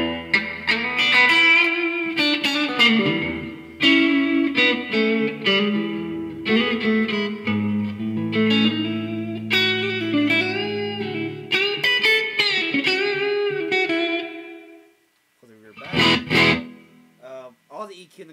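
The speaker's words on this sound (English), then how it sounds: "Now I'm going to go ahead and turn up the reverb all the way. It's going to sound very digital and the decay is not very good." Bugera V55 guitar amp head with its digital reverb turned all the way up, clean guitar notes and chords ringing out with a washy, artificial tail, loud and alone, ending in a short strummed burst.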